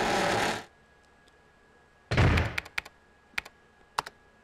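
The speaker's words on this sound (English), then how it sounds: "Who in the hell is typing over here, bro?" Keyboard typing in the Resident Evil Code Veronica X video game, a burst of noise and then a few sharp, sparse key clicks spaced irregularly, fairly quiet.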